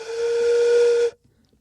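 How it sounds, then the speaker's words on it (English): A single loud whistle blast with a steamy hiss holds steady for about a second, then cuts off abruptly into quiet. "you want to hit that whistle there again, Wayne?"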